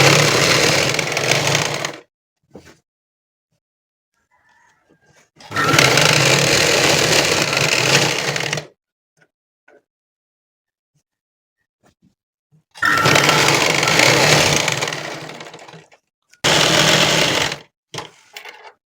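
An electric sewing machine stitches a nighty in several bursts, each a loud, close, rapid mechanical whir of about two to three seconds, separated by pauses of near silence.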